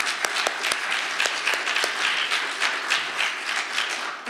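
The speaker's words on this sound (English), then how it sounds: "Can we go ahead and clap again?" An audience at a women's church gathering claps steadily for several seconds, with distinct individual claps audible within the dense applause.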